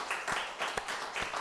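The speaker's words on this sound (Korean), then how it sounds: "우리 박수 한번 하세요." Church congregation applauding during a service, a short burst of scattered handclaps with a few sharper individual claps, moderately quiet in a hall.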